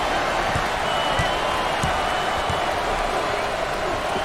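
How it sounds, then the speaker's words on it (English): A home crowd at a college basketball game in the NCAA Basketball video game, Missouri Tigers against West Virginia Mountaineers, applauding and cheering in a dense, loud, continuous wash, with a commentator's voice over it. "this hometown crowd is showing their appreciation"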